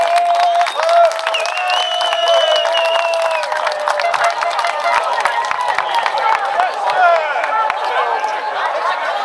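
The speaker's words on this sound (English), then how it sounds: "Please put one more loud round of applause together for our Brian Clerk." A memorial-event audience gives a loud, sustained round of applause and cheering for a man who recently died, with whoops and scattered voices over dense clapping throughout.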